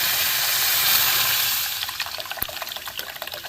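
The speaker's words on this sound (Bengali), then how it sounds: "এবার আমি জল দেবো, চিনির রসটা হয়ে যাক।" Water pours steadily into a bowl of sugar on a gas stove for sugar syrup, a close gushing stream that tapers into a few dribbles and drips.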